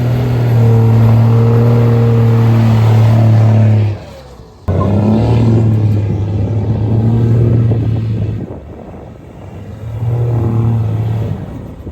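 A ranch truck fitted with a leveling kit driving, its engine droning loud and near with steady tonal hum, a sharp break and restart midway, then easing off and building again.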